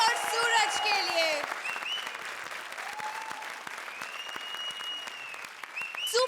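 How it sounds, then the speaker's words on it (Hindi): Studio audience on a comedy show applauds a pair of performers, clapping running under a bright burst of music and effects, fading somewhat before swelling again at the end. "जोरदार तालियां वीआईपी और सूरज के लिए."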